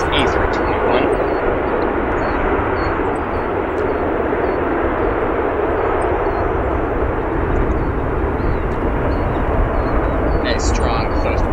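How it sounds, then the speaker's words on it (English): A seven-year-old American Airlines Airbus A321 lands at O'Hare with strong thrust reversal, a loud, steady broadband engine roar sustained throughout and close by, with no distinct pauses or other sounds standing out. "Strong thrust reversal sound from November 971 Uniform Yankee, arriving from Philadelphia"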